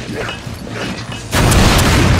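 Explosions from the video game Resident Evil 5: a muffled rumble gives way to a sudden loud burst of booming blasts that stays dense and continuous to the end.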